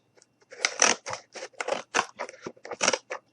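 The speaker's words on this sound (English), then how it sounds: "grab my scissors, and we're just going to go ahead and cut" Scissors cut through cardboard in a close series of about ten crisp, crunching snips in quick irregular bursts, with no talking.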